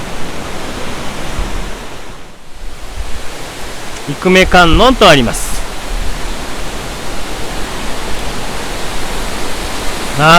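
A steady, broad rush of falling water from a waterfall, heard near its plunge pool, fills the whole stretch, with a person speaking briefly over it partway through.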